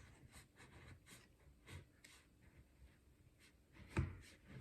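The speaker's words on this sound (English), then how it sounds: "I'm just going to use a sharp knife to cut" A sharp knife cuts through a frozen pizza into slices, giving faint, scattered crunching and scraping strokes with one louder crack near the end.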